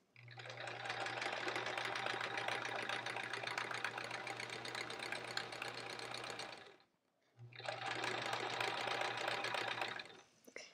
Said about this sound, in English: I can totally tell my machine is just not running as smoothly as, it's a little, like I was saying last night, it's feeling a little kerchunkety